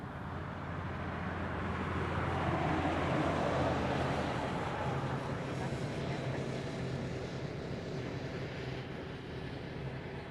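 A Boeing 717 airliner in Moana 2 livery taxis at Honolulu airport with a steady, broad engine roar that swells and slowly eases, moderately distant, with people talking over it.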